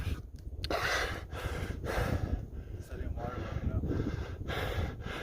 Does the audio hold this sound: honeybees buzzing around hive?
no